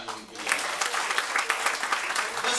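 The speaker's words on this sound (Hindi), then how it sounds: "एक बार जोरदार तालियां उनके लिए।" Sustained applause from the audience at a Hindi kavi sammelan poetry gathering, dense crowd clapping filling the room steadily throughout.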